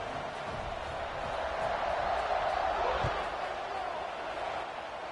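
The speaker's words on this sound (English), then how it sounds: "this crowd is buzzing after that last score" A college football stadium crowd buzzes steadily after a score, a dense roar that rises and falls slightly, with a commentator talking over it.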